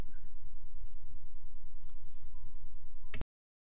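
A computer mouse clicks once near the end over a steady low hum and faint electrical tone while navigating Windows Vista settings.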